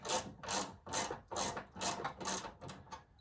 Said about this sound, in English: the 10 millimeter wrench for the 2 on the passenger side